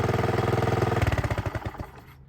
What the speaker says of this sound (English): it's just runs and runs and runs. Good little engine